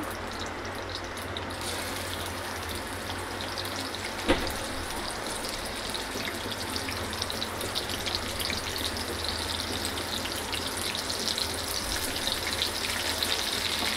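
A Marathi tempering fries in hot oil in a pan, a steady even sizzle throughout with one brief clink partway through.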